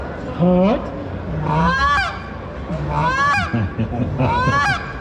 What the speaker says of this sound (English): It's more like that Cajun squeal with the goose call.